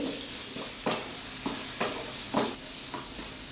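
Paneer modak mixture roasting in a pan, a soft sizzle broken by regular scraping strokes of a spoon about every half second, close and fairly quiet with no voices.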